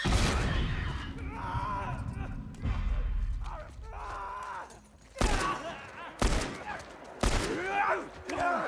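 Gunfire in The Last of Us Part 1, heavy muffled bursts early on, then several loud, sharp single shots spaced about a second apart near the end, with voices talking between them.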